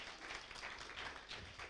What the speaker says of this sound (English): Can we please give Mr. Selby a round of applause?